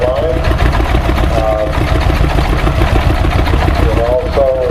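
A John Deere row-crop tractor engine runs slowly at a show, thumping in a steady low rhythm while people talk over it.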